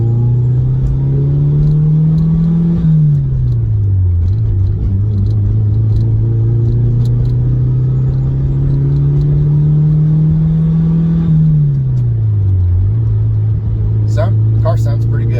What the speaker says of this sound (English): Car sounds pretty good.